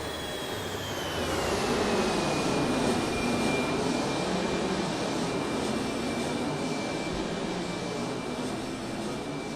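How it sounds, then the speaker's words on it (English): An Airbus A300 airliner passes overhead in the X-Plane 11 flight simulator, a steady broad jet roar with a falling engine whine as it flies by, loud and continuous throughout with no talking. "the flyby sounds are nuts"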